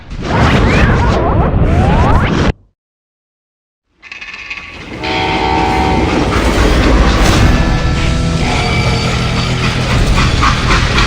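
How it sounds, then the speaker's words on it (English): A freight train in the Western shooter Call of Juarez Gunslinger rumbles loudly, cuts briefly to silence, then resumes as a steady, dense mechanical roar with sustained tonal whine. "How'd they stop this train in the first place?"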